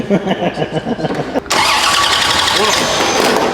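A 632 cubic inch big block Chevy V8 cranks with a rapid starter whir for about a second and a half, then catches and roars into a loud, steady, rumbling idle close by.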